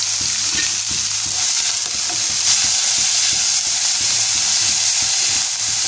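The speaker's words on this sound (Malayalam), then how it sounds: "ഉള്ളി വേഗത്തിലൊന്ന് വാട്ടിക്കും" Onions with a little salt sauté in a pan for a jackfruit seed masala curry, sizzling and hissing loudly and steadily up close, with occasional stirring scrapes and no voices.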